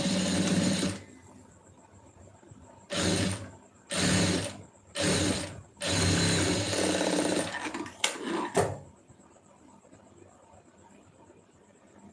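A sewing machine stitching a folded quarter-inch hem on a lined blouse, running in several distinct bursts of rapid mechanical whirring separated by short pauses, fairly close and loud with a faint steady hum between runs.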